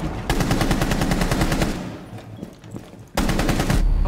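Automatic gunfire rattles in rapid bursts from a shooter video game, loud and dense at the start, easing to scattered shots in the middle, then a fresh loud burst near the end.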